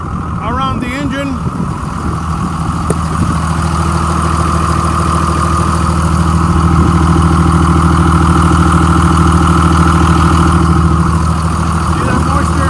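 A Cummins diesel in a 2001 Sterling trash dump truck idles steadily and loudly up close, a deep even rumble with a faint whine, while a voice talks briefly near the start.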